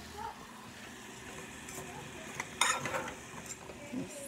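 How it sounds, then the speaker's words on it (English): Ground meat stirred in a frying pan for a cannabis lunch scramble: a steady low sizzle with scraping spatula strokes clustered near the middle, fairly close and moderate in volume. "Stir that up."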